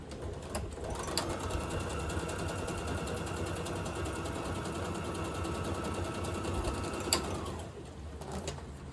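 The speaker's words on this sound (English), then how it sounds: "just quickly sew across the top of that" A sewing machine stitches across paper, running steadily for several seconds with a fast mechanical whir, then stops, with a couple of faint clicks near the end.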